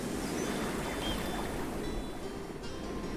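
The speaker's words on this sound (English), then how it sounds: "just enjoying the sound of the ocean" Ocean waves rolling onto a beach, a continuous broad wash of surf, steady and moderately loud throughout, with no talking.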